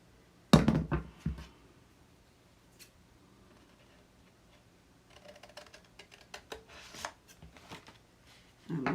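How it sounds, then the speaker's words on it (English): Scissors snipping through the cardstock flap of a paper treat box, cutting up to the score line at the corners; a few crisp close cuts early, then a run of lighter, quieter snips and rustling paper. "We're going to cut on this flap right here up to the score line, all the way around on 4 corners"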